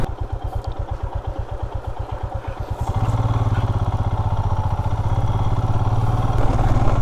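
A heavy motorcycle engine thumps at a rapid steady idle close by on a remote village road in Karbi Anglong, Assam, then revs up into a louder, denser rumble that holds for several seconds.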